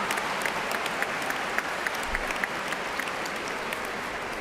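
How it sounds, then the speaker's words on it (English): A large crowd applauds a professor at a university commencement ceremony, with continuous dense clapping of many hands and scattered sharper individual claps standing out over an even roar throughout. "how about a big round of applause for Professor John Strada?"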